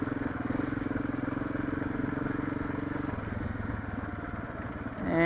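A motorcycle engine with an idling fault idles steadily nearby with a low, uneven throb, then revs briefly at the end.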